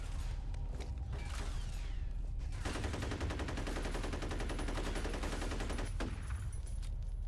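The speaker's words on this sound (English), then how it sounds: "it's a turret" Turret gunfire in F.E.A.R.: sustained, rapid automatic fire hammering almost without a break, dense and steady in loudness, with mechanical rattling and a brief gap near the end before the firing resumes.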